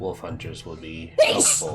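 A single sneeze bursts out at close range during a tabletop roleplaying session of Curse of Strahd, cutting in loudly after a stretch of ordinary conversation.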